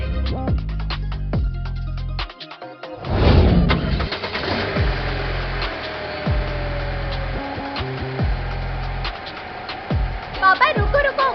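A car engine cranks and catches, then settles into a steady mid-pitched idle that runs on for several seconds, with a few sharper clicks and knocks over the rumble.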